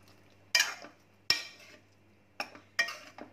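Metal spoon stirring and scraping in a pan of thick Bengali egg curry gravy with poppy seeds and green coriander, giving four sharp clinks and scrapes spaced about a second apart, close and alone.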